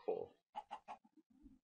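Minecraft chicken clucking in a few short, quiet bursts, a brief series of soft clucks in a video game setting, with no talk over them.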